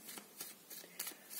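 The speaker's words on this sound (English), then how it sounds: "Let me get one more card." A deck of tarot cards is shuffled and drawn from in about five quick, soft riffling bursts, close and quiet, with no talk.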